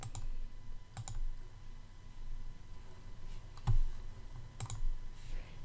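A computer mouse clicks now and then while someone navigates Google Drive: four or five soft, sharp clicks spaced a second or more apart, close and fairly quiet over a low steady hum, with no talking.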